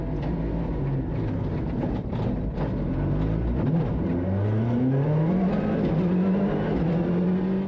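A Ford Fiesta rally car suffering turbo problems and engine misfires drives on road stages of a rally in Wallonie, its loud engine note rising and falling through gear changes in a continuous rasping roar.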